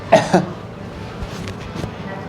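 A couple of quick, sharp coughs close up, followed by quiet background rustling.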